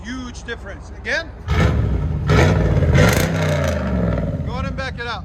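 A car engine with a new high-flow catalytic converter revs hard through its exhaust, rising to a loud, sustained roar across several seconds, with brief voices at the start and end.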